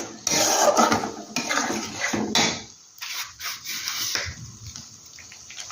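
Cashew and poppy seed paste is stirred and fried in a pan, with close scraping, rubbing strokes and a soft sizzle that come in uneven bursts and then quieten.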